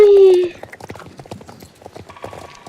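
Horse hooves clip-clopping in the video game Star Stable, a quick even run of hoofbeats just after a short tone, close and clear, with no voice over them.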